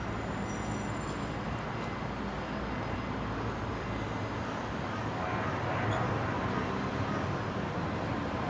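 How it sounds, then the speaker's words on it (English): A Qantas jet, flight 533 bound for Sydney, takes off from Brisbane airport with a broad, steady engine roar that stays loud throughout, swelling slightly toward the end, with no voices. "Qantas 533 off to Sydney."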